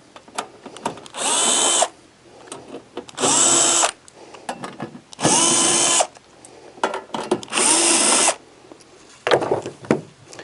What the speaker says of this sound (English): I'm going to go ahead and use a drill with a 5/16 bit on it